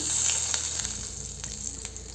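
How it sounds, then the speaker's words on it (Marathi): Ghee sizzles in a hot pan, a steady bright hiss with faint crackles that holds close and even throughout. "पॅन गरम झालेला आहे यात एक चम्मच तूप घालू"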